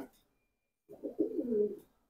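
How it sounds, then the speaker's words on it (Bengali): A pigeon gives a low, throaty cooing phrase after a brief quiet start, close and fairly clear, lasting about a second. "এটা হলো নর কবুতরটা"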